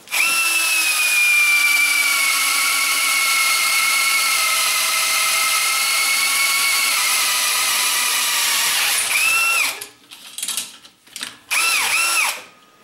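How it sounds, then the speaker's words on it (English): A Rapidrill power drill boring a hole into 4-inch pipe, a loud steady high-pitched whine held for about nine seconds, then several short bursts of revving as the bit spins up and down. "We'll go ahead and pop a hole in this 4-inch pipe"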